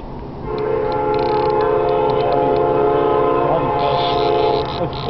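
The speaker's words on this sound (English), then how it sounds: "We got the train in the background." A freight train rumbles past with a long, loud horn blast sounding over the steady rail noise for several seconds.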